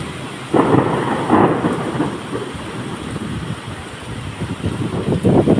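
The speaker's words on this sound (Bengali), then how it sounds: "প্রচুর বজ্রপাত হওয়ার সম্ভাবনা আছে, কারণ মেঘে ঘর্ষণে বিদ্যুৎ চমকাচ্ছে।" Thunder rumbles through a heavy rainstorm with lightning, several loud rolling peaks rising over steady rain hiss and gusty wind, with no talking.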